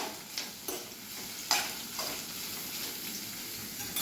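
Thinly sliced onion frying in oil, stirred with a spatula in a few distinct scraping strokes over a steady sizzle, close up with no voices.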